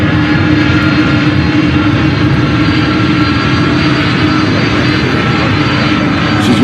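A FedEx MD-11 jet's engines roar in a steady, loud, broadband rumble with a droning low hum at an airport, unbroken and continuous throughout.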